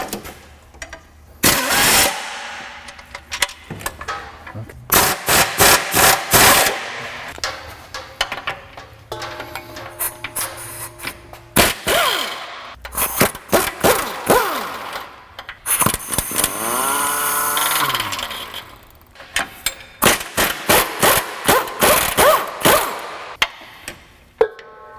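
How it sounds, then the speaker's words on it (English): Impact wrench on a 2006 Honda Odyssey power steering rack, loosening 14 mm bolts: repeated loud, close bursts of rattling hammering, several in quick succession, with short pauses between and some whirring spin-up, no talk. "I think I can hit those with that impact that I had a minute ago."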